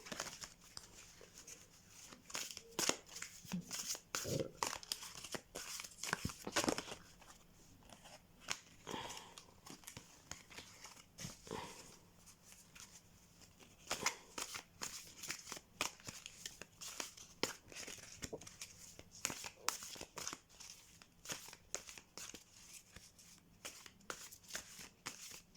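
Tarot de Marseille cards with black edges are shuffled by hand in quick, crisp riffling bursts and soft slaps. The sound is close but quiet, with brief pauses between runs.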